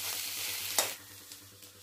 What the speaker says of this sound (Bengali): এবার এই পিঠটা আবার ভালো করে একটু ভেজে নিই।